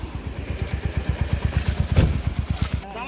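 Steady, close engine thrum from a Royal Enfield Hunter 350 motorcycle on a mountain road ride from Gangtok toward Nathula Pass in East Sikkim, with regular pulsing firing beats throughout and a slight swell near the end.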